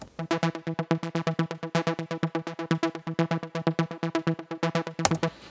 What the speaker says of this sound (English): I've got this diva here with a plucky sequence here called